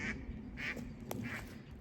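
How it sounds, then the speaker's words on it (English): Ducks quacking in the woods of northern Maine, a few faint separate calls at a distance with a short sharp sound between them. "ducks."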